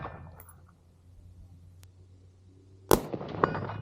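A single loud gunshot cracks out on a shooting competition stage after a quiet stretch of low rumble, followed by a couple of fainter metallic pings from targets being hit.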